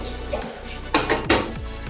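A frying pan is handled on a stove, with several close metallic clanks and knocks of cookware and utensils against it in quick, irregular succession.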